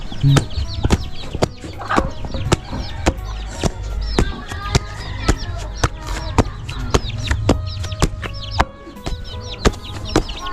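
Chickens clucking close by in a village near Savannakhet, Laos: loud, repeated clucks mixed with sharp rhythmic chopping knocks throughout, with faint talk in the background.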